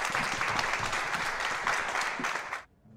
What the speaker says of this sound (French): Un applaudit quand même.